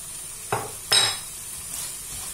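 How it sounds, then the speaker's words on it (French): Vermicelli being stirred with chicken sauce in a pan, flavoured with parsley and coriander: two short scraping strokes of a utensil against the pan, the second louder, over a faint background hiss. "On mélange tout ça."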